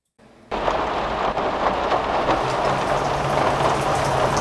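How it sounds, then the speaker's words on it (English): Steady, dense rainfall from the rain scene of the video game Hearthbound, with drops striking leaves, trees and ground. It begins after a brief silence, then holds loud and even, with a low rumble underneath. "Let's just hear those rain sounds together"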